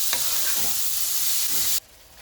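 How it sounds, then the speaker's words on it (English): Tomatoes sizzle loudly in a hot pan for pav bhaji while a spoon stirs them with a few scraping strokes, then the frying noise drops away abruptly near the end. "Now mix it nicely"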